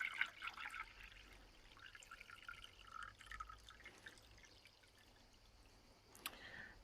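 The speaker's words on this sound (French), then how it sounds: "la petite enceinte en dessous du réservoir d'eau se remplit en goutte à goutte et elle se vide par contre d'un seul coup par effet siphon" Water drips inside an Easygreen automatic sprouter as a small chamber under the reservoir fills drop by drop and empties by siphon. Faint scattered trickles and drips sound close and quiet, with one brief sharper splash near the end.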